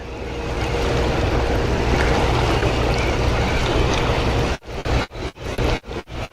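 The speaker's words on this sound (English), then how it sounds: "You see in front of me how that wind blows. It's making some nasty waves through here." Strong wind drives choppy waves against a fishing boat on the Tennessee River, a loud, continuous rushing wash that breaks into a series of rhythmic slaps and thumps near the end.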